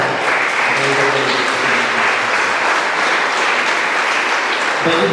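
Applause at a Christian wedding ceremony, a steady wash of clapping from the congregation offered as praise, loud and continuous with some voices mixed in.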